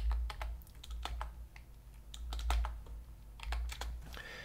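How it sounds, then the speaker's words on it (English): Fingers tap out an unlock code on a computer keyboard, a quick run of close, crisp key clicks in small bursts with short pauses, no talking. "let's type in our unlock code, which is 123456"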